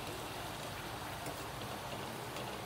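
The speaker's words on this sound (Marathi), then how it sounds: "मस्त पाऊस चालू आहे" Steady rain hisses evenly throughout, a dense broadband patter with no pauses, no voices and no standout drops.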